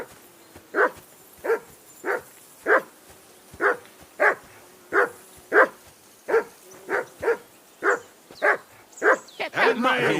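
Dog in the medieval role-playing game Kingdom Come Deliverance barks repeatedly at a steady rhythm, about fifteen sharp close woofs in a row, with a scrappier burst of yelps and voices at the end.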